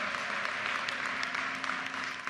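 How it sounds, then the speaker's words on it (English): Crowd applause at a University of Maryland commencement ceremony, a steady dense wash of clapping that fills the whole moment without pause. "How about another round of applause for Senator Cardin and Congressman Ruppersberger?"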